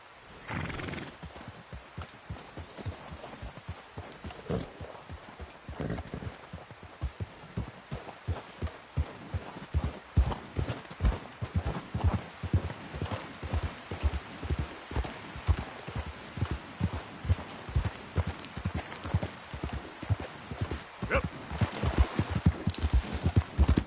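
Horse hooves in Red Dead Redemption 2 clip-clop in a steady rhythm that grows louder and more distinct over time, with an occasional snort.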